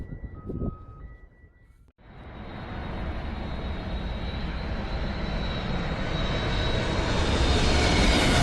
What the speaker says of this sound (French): qu'un tel avion survole ta maison et fasse trembler toutes les vitres